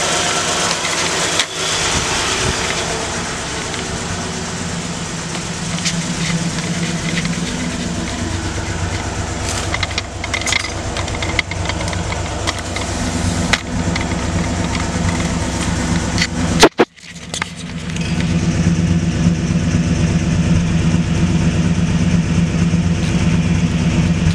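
A 1967 Ford Galaxie with a carbureted 289 V8 idles after a cold start, a loud, steady low rumble with some handling clatter and a brief sharp interruption before the idle resumes evenly.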